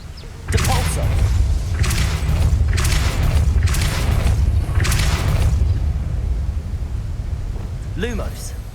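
Depulso force spell cast in the Hogwarts Legacy video game, a series of four or five loud whooshing blasts at steady intervals over a low rumbling backdrop, followed by a short voice.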